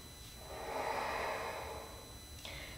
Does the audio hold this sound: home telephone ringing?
no